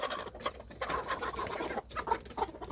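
Mother hens in a coop cluck in short repeated calls, close and moderately loud, the clucks scattered unevenly over a soft background of other hen murmurs.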